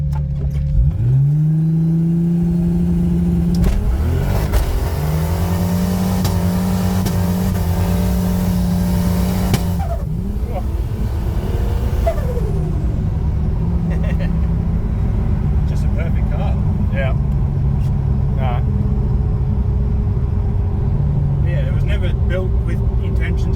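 A VL Turbo car does a trans brake launch, its engine rising in a loud strained whine and then pulling hard through the gears. The roar continues steadily from inside the car, and voices talk over it.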